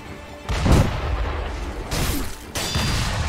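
Heavy booming blasts of enemy gunfire from the Sekiro video game, with three loud bursts spaced about a second apart, each reverberating briefly, with no talk over them.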